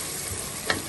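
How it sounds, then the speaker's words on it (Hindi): A spice paste for aloo gosht is fried and stirred in a pot, giving a steady close sizzle with one brief louder scrape as the spoon moves through it. "इसको भूनते रहना है हमने काफी देर तक, जब तक ये सारी चीजें एक पेस्ट की शक्ल ना तैयार कर लें।"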